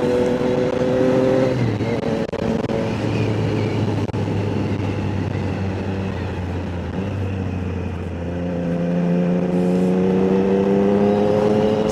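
A 2025 Triumph Trident 660 with an upgraded exhaust muffler is ridden past close by, its loud engine note rising and falling through gear changes with tonal harmonics climbing under acceleration.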